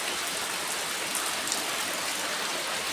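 Steady rain pours down throughout on a monsoon day in Kerala, a dense, even hiss of drops on surfaces with no pauses, close and fairly loud with no voices.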